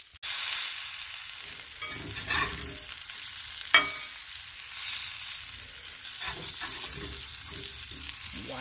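Cauliflower pancakes frying in a pan at a campsite, a steady close sizzle with occasional soft scrapes and stirring taps, no talking.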